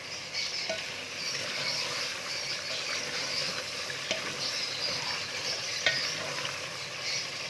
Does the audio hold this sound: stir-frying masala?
yes